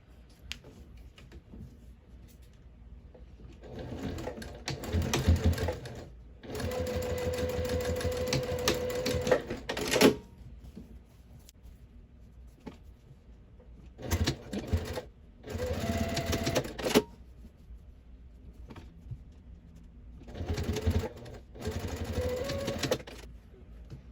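Sewing machine back stitching while sewing a scrap-fabric bin, running in several bursts of steady mechanical whirring separated by quiet pauses, close up and alone with no talk.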